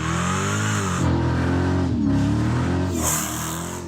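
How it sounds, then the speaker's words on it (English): A Dodge Hellcat engine revs and accelerates with a steady high supercharger whine riding over the rumble, loud and close throughout. "And now when I drive the car, the blower sounds like this."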